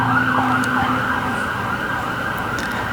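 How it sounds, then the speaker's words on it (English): A siren wails steadily in the distance over the rumble of passing traffic, its pitch sweeping up and down. "Police sirens."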